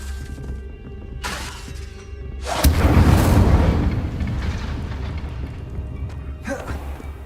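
An Incendio fire spell cast in a Harry Potter game, a sharp crackling whoosh bursting into a loud roaring blaze that slowly fades over a low background hum, no talk.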